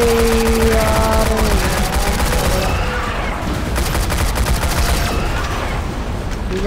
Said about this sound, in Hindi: ठीक है कवर फायरिंग हो रहा है